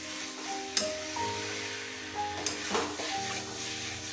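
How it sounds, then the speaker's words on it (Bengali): Fig and potato curry is stirred in a frying pan, giving a quiet, low sizzle broken by a few scraping clinks of the spoon. "সব কিছুকে ভালোভাবে মিশিয়ে নেব।"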